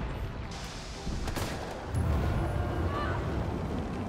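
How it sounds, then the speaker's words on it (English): Grenade blasts in the Resident Evil 3 game on PC, a rumbling burst of explosive noise that swells about halfway through and holds loud and dense to the end, with no talk over it. "Oh no, grenades"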